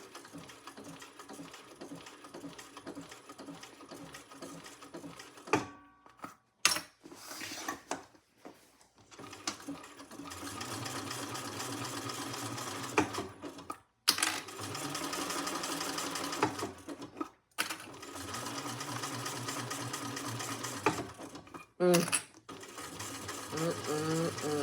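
A sewing machine stitching a shoulder bag, whirring in bursts with brief stops and clicks between runs, close and steady, with faint speech now and then.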